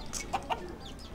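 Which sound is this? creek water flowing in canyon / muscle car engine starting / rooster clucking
rooster clucking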